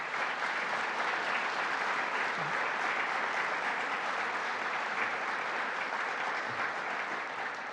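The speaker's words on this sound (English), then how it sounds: "Let's give them a round of applause" Steady, dense applause from an audience at a Central New York state budget announcement, many hands clapping evenly and continuously at moderate volume from start to finish.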